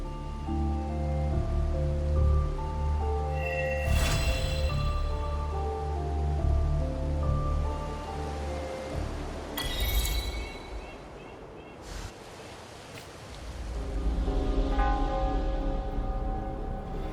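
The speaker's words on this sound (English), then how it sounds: "This rain, it's finally happening." Steady rain patters in the video game Wuthering Waves over a constant background hum and layered tones, with a few sharp bursts cutting through; no voices.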